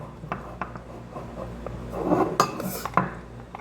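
Cheese being mixed in a bowl with a utensil while baking cheese bread, scattered clinks and scrapes of metal against the bowl, with a denser rubbing stretch midway and a few sharper knocks.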